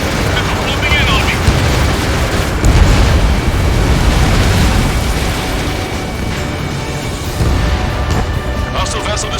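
An enemy ship explodes in the Ace Combat 7 video game with a loud, sustained roar and rumbling booms that fill the whole stretch, while radio voices talk over it.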